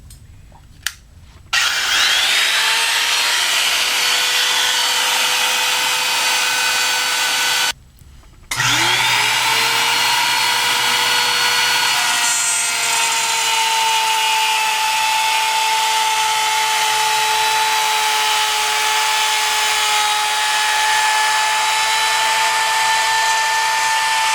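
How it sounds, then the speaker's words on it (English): A foot-switched wood router spins up with a loud whine and cuts wood for a bending form, a steady high-pitched roar with a brief stop and restart partway through. "my router's on a foot switch"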